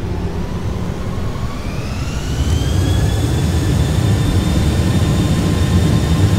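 Boeing 737NG jet engines in the Prepar3D flight simulator spooling up on departure, a steady loud roar with a rising turbine whine that climbs in pitch and swells in loudness partway through, then holds.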